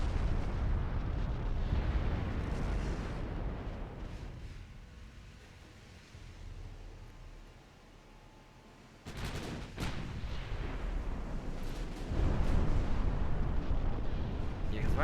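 Battleship gunfire in the naval warship game Ultimate Admiral Dreadnoughts, with deep booming salvos and rumbling blasts rolling over a continuous low roar, a heavy burst of shots near the middle and loud fire returning toward the end.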